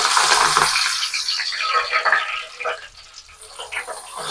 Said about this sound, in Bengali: এবার তেলের মধ্যে এটাকে বসিয়ে দিলাম।